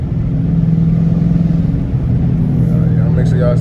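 Dodge Challenger RT with a catless exhaust pulls in fourth gear, a loud, steady low engine rumble droning throughout with a faint rising whine near the end.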